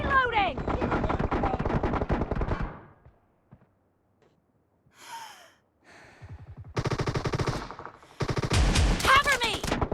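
Shotgun fire in a first-person shooter's shotgun-only challenge: loud, dense bursts of shots fill the opening seconds, then a quiet gap, then more heavy blasts near the end, with voices talking between them.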